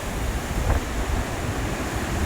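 Strong wind roars steadily across an open mountain valley in Spiti, a loud, constant broadband rush buffeting the microphone with no voices.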